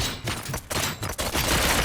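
Gunfire crackles in the RoboCop: Rogue City video game: rapid, loud bursts of shots in quick succession, clustered tightly with brief gaps between volleys, no talking.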